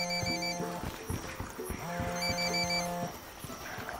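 A phone rings repeatedly in Ghost Recon Wildlands, its electronic trill arriving in bursts with short pauses, close and fairly loud over faint ambient game noise.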